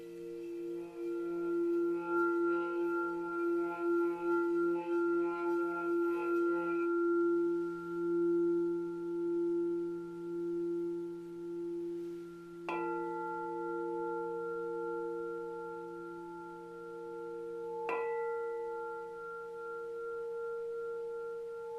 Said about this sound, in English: close your eyes, relax, and listen to this bowl